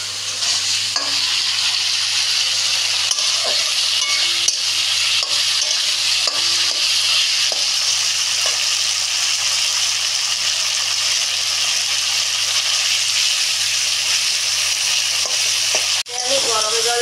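Spices frying and being stirred in a pan for Bengali bhetki (barramundi) fish curry, a loud continuous sizzle with scattered scraping stirs and clinks, no talking.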